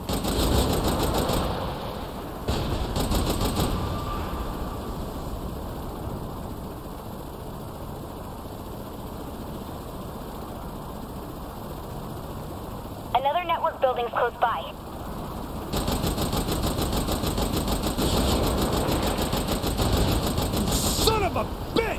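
Rapid missile fire from a vehicle in the video game Saints Row The Third, dense repeated launches and bursts mixed with game noise and a brief radio-like chatter, loud and continuous.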